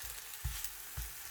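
Gambir flatbread dough fries in a greased pan with a faint, steady sizzle, interrupted by two soft low thumps, close and quiet with no talking.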